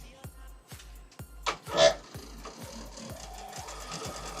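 A sewing machine stitches a quilt square, a steady rapid mechanical thump of the needle running close and continuously, with a brief rustle of fabric partway through.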